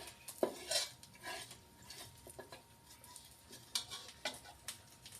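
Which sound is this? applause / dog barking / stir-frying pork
stir-frying pork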